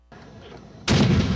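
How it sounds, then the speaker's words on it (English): Hand grenade detonating at a site along Route 15 during military activity: a low rumbling hiss gives way to a sudden loud, broad blast that roars on without a break. "That was the sound of a hand grenade detonating"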